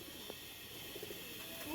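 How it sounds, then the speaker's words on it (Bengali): Pigeons shifting and hopping about in a loft as they wait for feed, giving faint, soft cooing and light rustling over a low steady background hum. "কবুতর গুলা লাফালাফি করতেছে"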